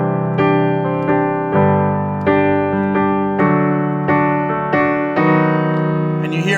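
Sustained piano chords from a song change every second or so in a smooth progression, full and fairly loud with no voices.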